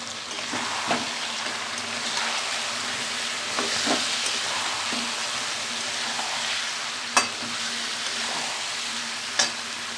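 Green chili paste, ginger-garlic paste and ground cumin fry in hot oil, giving a continuous crackling sizzle with occasional stirring taps and two sharp clinks near the end.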